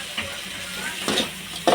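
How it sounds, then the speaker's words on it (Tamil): Parotta fries with salna in a hot pan, a soft continuous sizzle broken by a couple of brief stirring clatters. "அவங்க கொடுத்துருக்குற சால்னாவே தான் போட்டு நம்ம நல்லா வணக்குறோம்"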